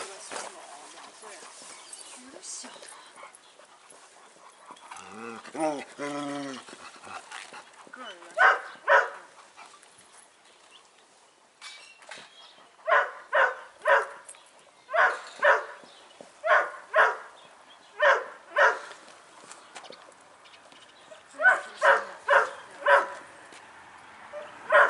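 Kangal dog, a two-year-old dark grizzled female, barks in loud sharp bursts, first scattered and then in quick repeated runs, with a brief whine and voices talking in the background.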